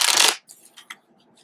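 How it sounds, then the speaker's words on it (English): Large tarot cards being riffle shuffled, a loud dense fluttering burst of cards slapping together, then a few soft taps and rustles as the deck settles, quiet and close. "let's see how it actually shuffles on the riffle shuffle"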